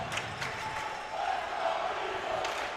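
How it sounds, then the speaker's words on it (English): A large, enthusiastic arena crowd roars steadily through a boys' Division 1 Section II high school hockey final at Union, Bethlehem Central playing. Dense, continuous cheering fills the space, with a few sharper shouts rising above it. "Another great enthusiastic crowd tonight here at Union"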